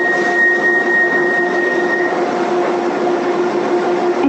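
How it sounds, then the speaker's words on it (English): A Docklands Light Railway train in London, heard as a steady broadband rumble and hum of running equipment with a couple of sustained tonal whines, continuous and fairly loud throughout. "this is a Dockland rail service in London"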